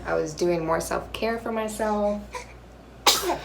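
Someone talks calmly, then a single short, sharp sneeze bursts out near the end, close and loud after a brief pause.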